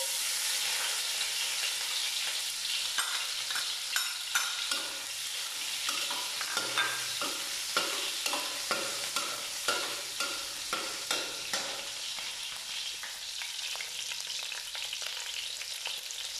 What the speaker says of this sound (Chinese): 把这个爆香，